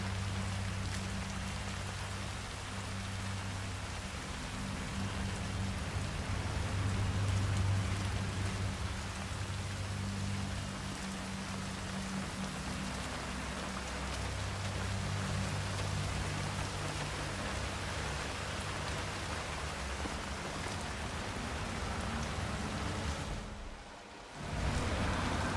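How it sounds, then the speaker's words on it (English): Rain in the Chongqing level of the video game Hitman 3, a dense, steady hiss of downpour on surfaces with a low background rumble, heavy and unbroken until a brief dip near the end. "I'm never going out in the rain again."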